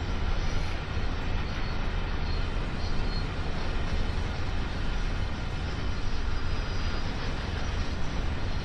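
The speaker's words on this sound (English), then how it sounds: "I cannot believe how long this train is" A very long freight train on the Clinchfield Railroad's Greenbriar Branch in Train Sim World 2 rumbles past at a steady, loud level, with a continuous broadband roar of wheels and cars that doesn't let up.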